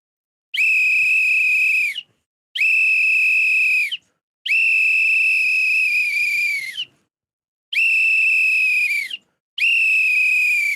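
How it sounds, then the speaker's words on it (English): Referee whistle at a Baltimore Ravens vs Buffalo Bills NFL football game, blown in five long, loud shrill blasts of about one to two seconds each, separated by short gaps, with no voices. "Ladies and gentlemen, get your whistles."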